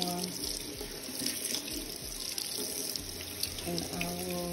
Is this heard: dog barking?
no